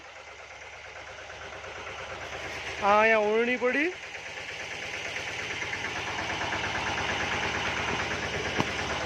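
A tractor, freshly taken out of a godown with bumper planks fitted, idles nearby with a steady low rumble that slowly grows louder, while someone speaks briefly near the start.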